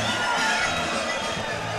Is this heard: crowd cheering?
yes